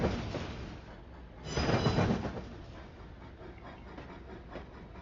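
A train runs on rails in the Trainz2 railway simulator, giving a continuous rolling rumble and hiss with a louder surge of clatter near the middle, steady and mid-distance.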